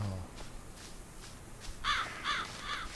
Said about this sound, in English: Crows or ravens.